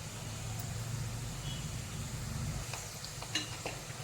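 Chegodi snacks frying in hot oil give a steady, soft sizzle and bubbling throughout, with a few faint clicks near the end and no voices.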